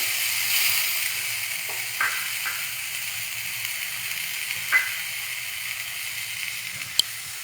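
Food frying in a pan gives a steady soft hiss, with a few faint utensil clicks and one sharp tap near the end, close and without talk.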